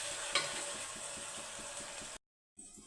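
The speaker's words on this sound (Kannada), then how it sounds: "ಕೆಂಪಗಾಗಬೇಕು ಈರುಳ್ಳಿ. ಸ್ವಲ್ಪ ಫ್ರೈ ಮಾಡ್ತಾನೆ ಇರಿ" Onions fry in a pan for breakfast, a steady quiet sizzle with faint stirring scrapes, close by, ending in a brief cut of silence.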